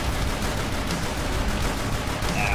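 Rapid gunfire in the shooter video game JetsNGuns 2, a dense continuous barrage of shots forming a loud, unbroken wall of noise.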